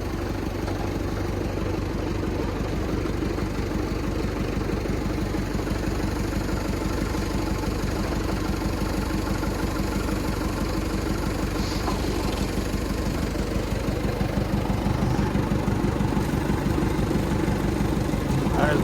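The pump on a Fimco 60 gallon boom sprayer runs as a steady, loud engine-like drone with a dense rhythmic pulse, unbroken for the whole stretch while people talk over it.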